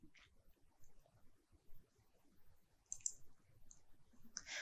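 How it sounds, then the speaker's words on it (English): Three very faint, crisp computer mouse clicks, spaced seconds apart, in an otherwise quiet room while structural design software is in use. "I click on save and return."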